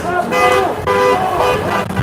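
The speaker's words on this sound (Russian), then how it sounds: "Машины сигналят тоже." Several car horns honk together in sustained, overlapping blasts amid street noise and crowd voices at a protest rally in Belarus.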